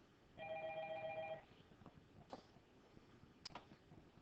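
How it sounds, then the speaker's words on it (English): A telephone rings once with a steady electronic trill, clear and fairly close, followed by a few faint clicks and handling noises in a quiet room. "Sorry, phone's ringing."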